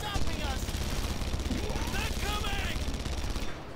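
Sustained automatic gunfire from the video game Red Faction Guerrilla, rapid bursts running continuously and loudly across the whole stretch with a busy game mix underneath.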